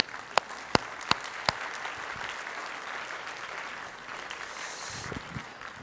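Church congregation applause, a broad wash of many hands clapping at moderate distance, with a few sharp, louder claps standing out near the start.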